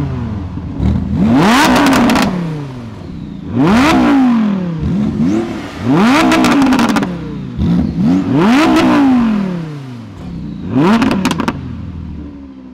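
Porsche 911 GT2 RS accelerating hard in a roll race, several loud full-throttle pulls with rising engine pitch and gear shifts, each burst fading before the next.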